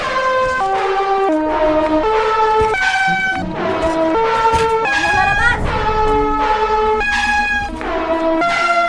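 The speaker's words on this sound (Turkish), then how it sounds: "kornalar" Loud, blaring horn blasts sound continuously, stepping up and down in pitch like a honking tune, with no pauses throughout.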